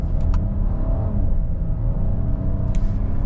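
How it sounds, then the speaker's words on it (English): A 2026 Hyundai Palisade Calligraphy SUV accelerates hard under paddle shifting, a steady low cabin rumble and engine drone with brief higher whines of the revs. "We'll do one last acceleration using the paddles."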